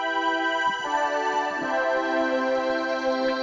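Two keyboards layered in unison, one voiced higher and one lower, blend into a bright, long-sustained synth chord tone that shifts pitch a couple of times and holds steadily, loud and close with no voices.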